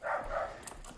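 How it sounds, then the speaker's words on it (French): A puppy in a residential courtyard in an old town gives a soft, brief vocalisation, moderately close and heard alone without talk. "Le chien est là."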